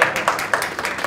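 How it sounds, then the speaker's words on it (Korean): A brief burst of steady audience clapping at a Liberty Korea Party political event, loud and close, with rhythmic claps running throughout and no speech over it. "모두 큰 박수 부탁드립니다."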